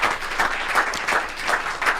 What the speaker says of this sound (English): Make we clap for Alaja